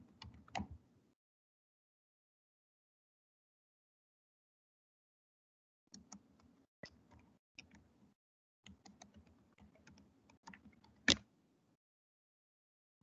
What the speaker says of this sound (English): Here I'm typing where is Gopalan